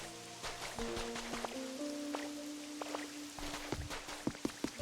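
Steady, soft rainfall in the video game Pokémon Pokopia, a quiet hiss of falling drops with light tapping and a few gentle musical tones above it.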